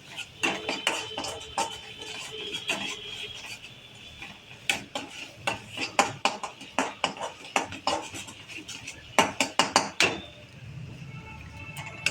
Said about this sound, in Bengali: মশলাটা ভালো করে মিশিয়ে নিয়ে